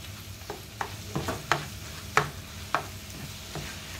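Taco pie filling stirred in a pan, a spoon scraping through it in several distinct sharp strokes over a low, steady sizzle, close and alone without any voices.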